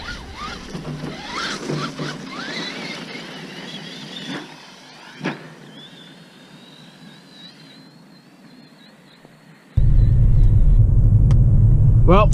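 A CEN Colossus XT RC truck drives outdoors, a high motor whine rising and falling mid-clip, then a loud, steady roar of the truck running close by near the end, with people talking over it early on.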